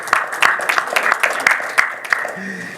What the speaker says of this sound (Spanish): vamos a brindarle un aplauso al doctor Jorge Amos